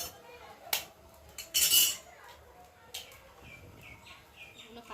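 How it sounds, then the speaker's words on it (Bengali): Eggs being cracked against a bowl for egg toast, giving a handful of sharp taps and clinks close by, one louder splashy burst in the middle, with faint bird chirps in the background. "তো চলো ডিমগুলো একটু ফাটিয়ে নিই"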